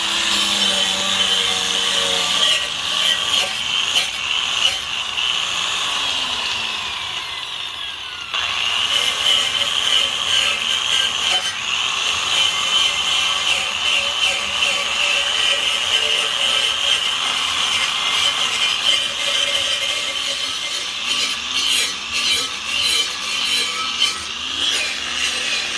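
A power tool grinds marine epoxy off a Sea Ray 240 boat's Mercruiser outdrive outdoors, a continuous abrasive rasping and whirring that wavers in pressure, with a brief dip midway before resuming steadily.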